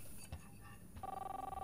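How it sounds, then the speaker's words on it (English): Telephone ringing in the video game Life is Strange, a steady electronic ring tone entering partway through and repeating in quick pulses over faint game ambience. "Okay, that's the phone."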